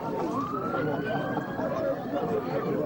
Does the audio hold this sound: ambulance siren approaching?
yes